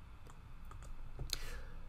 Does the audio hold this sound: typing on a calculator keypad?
yes